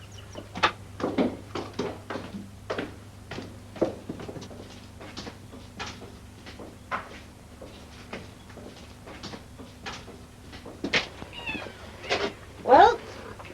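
A cat meows a few times in an indoor setting from an old radio-style drama, the calls short and scattered among speech, light knocks and a steady low hum, with one louder rising meow near the end.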